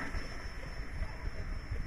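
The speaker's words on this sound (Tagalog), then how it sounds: "Medyo mahangin lang talaga" Steady wind blows outdoors at a cooking spot, making a constant low rumble and buffeting across the microphone throughout. No voices can be heard.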